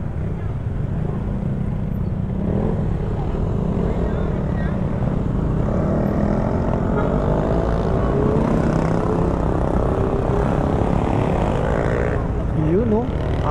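Dense engine drone from a large crowd of motorcycles gathered in Lukban during a rider meetup, a steady loud rumble running throughout with voices mixed in.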